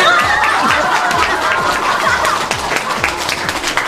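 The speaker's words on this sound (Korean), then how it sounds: "이럴 때 박수 한번 쳐주세요" An audience at a nursing home event applauds, bright continuous clapping from many hands mixed with chuckles and light laughter, close and loud throughout.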